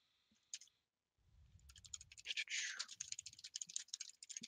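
Quick, faint clicking of computer keyboard keys as notes are typed, a short burst of taps following a brief low rumble, close and quiet.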